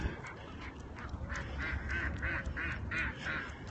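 Geese honking at Lake Balboa Park, a run of about eight repeated honks at an even pace, moderately distant over outdoor ambience.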